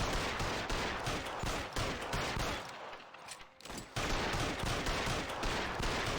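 Sustained gunfire rattles through a shootout in L.A. Noire, near and continuous bursts that thin out briefly in the middle before resuming at full intensity.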